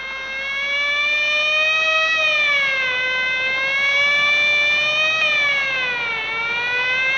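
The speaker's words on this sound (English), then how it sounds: "Quite unnecessary use of that siren" A loud wailing siren rises and falls slowly in long sweeps, steady and close, with no voices over it.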